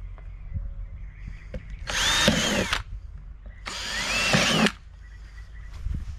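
A power drill with a half-inch bit bores drain holes in a plastic container for tomatoes, with two close, loud whining bursts of about a second each, separated by quiet.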